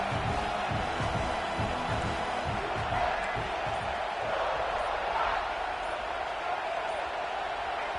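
A roaring stadium crowd in a college football video game forms a constant, dense wash of noise with rumbling low thumps early on, loud and continuous throughout.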